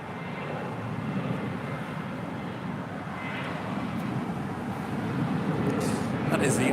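A Boeing 787 Dreamliner moves along the south side at LAX, its engines giving a steady moderate roar that gradually builds louder toward the end, with a voice talking faintly over it.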